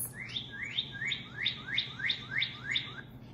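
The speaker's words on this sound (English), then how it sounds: "I recognize some bird sounds." Wild songbirds chirp outdoors, a quick series of about nine rising, evenly spaced tweets over a soft low rumble of background noise, moderately faint with no voices.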